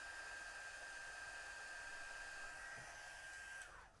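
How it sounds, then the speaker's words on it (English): A heat gun blows hot air while heat-shrink tubing on patch cables is shrunk, a steady loud whirring hiss with a high whine that drops away as it switches off near the end. "I've got a heat gun."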